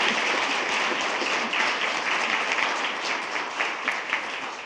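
Steady applause from a board meeting audience honoring the Employees of the Month, dense and sustained clapping filling the room for several seconds with no talk over it.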